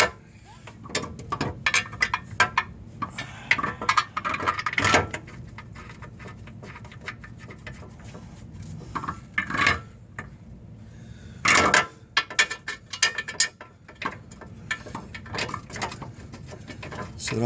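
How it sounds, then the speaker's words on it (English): Intermittent metallic clicks, taps and scraping clatter as bolts are threaded by hand into a transmission brace under a 2008 Mazda Tribute with a CD4E transmission, close and fairly quiet, with irregular pauses between bursts. "Just going to kind of get our bolts started here."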